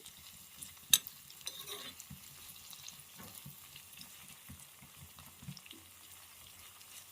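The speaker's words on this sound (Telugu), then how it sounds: "కొబ్బరి నూనెతోనే ఇవన్నీ చేసుకోవాలి. చక్కగా వేగిపోవాలి ఆయిల్లో." Herbs and fenugreek seeds frying in coconut oil for a homemade hair oil, giving a low, steady sizzle with soft stirring scrapes and one sharp clink near the start, quiet and close, with no talk.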